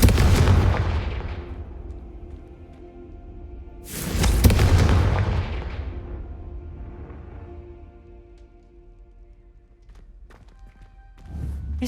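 Confringo fire-spell explosions in Hogwarts Legacy on Xbox Series X: two loud booming blasts, each trailing off in a long rumbling decay, with a third sharp burst starting right at the end.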